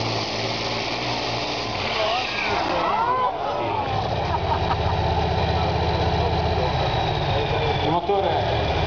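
A 19,000 cc, 2,200-horsepower tractor-pulling engine idles with a loud, rough, steady rumble at a tractor-pulling trial in Gonzaga, Italy, with voices talking over it.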